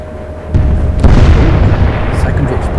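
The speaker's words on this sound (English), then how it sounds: "Secondary explosion on the Revenge." A loud secondary explosion tears through a warship in the naval game Atlantic Fleet, a sudden booming burst that swells after a softer thud and rumbles on for several seconds.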